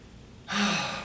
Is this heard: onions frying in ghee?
no